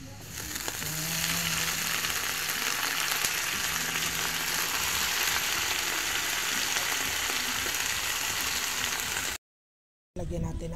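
Pechay (bok choy) sautéing with tofu in a pan, giving a steady, close sizzle with faint stirring scrapes that holds for about nine seconds before a brief silence, then resumes.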